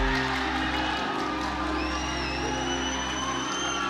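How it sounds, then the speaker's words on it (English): A boxing arena crowd swells in a continuous roar of cheering and shouts under a steady background hum, with a high whistle rising midway through. "Crowd coming to life."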